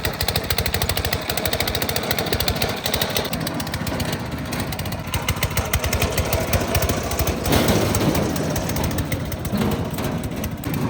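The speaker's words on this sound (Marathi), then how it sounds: "हा ट्रॅक्टर खूप दिवसातून बाहेर काढलाय बरं का. डांबरी रस्त्याला लागला." A tractor engine runs steadily and loudly throughout on a tarmac road in a village, a continuous rough mechanical rumble with no talk.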